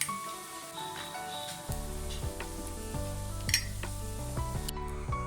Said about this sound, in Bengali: এখানে মাছটা ভাজতে বসিয়ে দিয়ে গেছিলাম ভেবেছি মাছটা আস্তে আস্তে ভাজাও